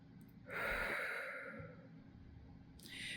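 A single deep, audible breath drawn in and slowly let out, airy and close, alone in a quiet room with no talking.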